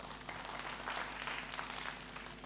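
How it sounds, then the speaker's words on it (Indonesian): Applause from a congregation at a Sunday church service in Indonesia, a steady, even wash of clapping that is moderately faint and continues throughout without talk over it. "beri tepuk tangan kepada Tuhan"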